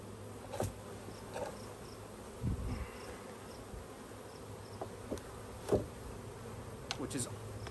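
Honeybees hum around an open hive in Grand Rapids, Michigan in early June, a low steady buzz with individual bees zipping past close by, while a person speaks.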